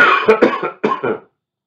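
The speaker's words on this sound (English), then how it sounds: "I cough, I apologise, dear viewer" A few harsh, close coughs come in two quick pairs, a brief pause between them, then quiet.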